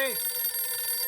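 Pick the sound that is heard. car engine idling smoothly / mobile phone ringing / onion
mobile phone ringing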